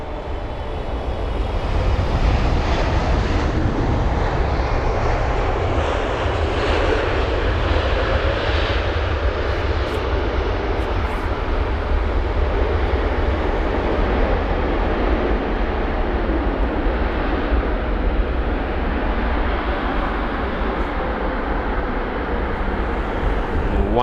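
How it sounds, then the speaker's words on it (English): A Turkish Airlines Boeing 777-300ER arriving from Istanbul lands at London Heathrow with heavy tyre smoke, a steady, loud, broad jet roar that holds for the whole stretch without letting up. "This is the 777-300ER with a very smoky landing there."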